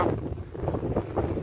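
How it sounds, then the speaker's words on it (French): Strong wind of about 17-18 knots while sailing a sailboat back from the anchorage, steady gusty roar buffeting the microphone with rushing water beneath, no voices. "On a 17-18 nœuds de vent."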